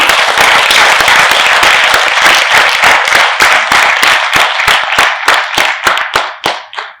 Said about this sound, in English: let's begin with a big round of applause for each one of you